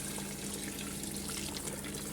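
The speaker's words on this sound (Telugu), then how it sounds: "హాట్ వాటర్ ఇలా కాసుకొని పోస్తాం ఫ్రెండ్స్." Hot water is poured into a curry cooking in a pot, giving a steady, close, continuous splashing pour with no speech.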